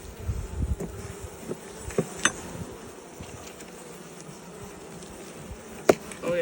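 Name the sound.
honeybees buzzing around an opened hive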